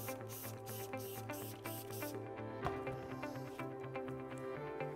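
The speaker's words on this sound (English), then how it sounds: "I'm going to be spraying this cloth." Benzalkonium chloride disinfectant is sprayed onto a cleaning cloth in six or seven quick, soft hissing bursts over two seconds, faint and close, then stops.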